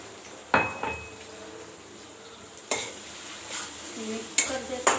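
Black pepper is stirred into a paneer dish in a pan: a spoon scrapes and clinks against the pan in a few sharp bursts over a low sizzle.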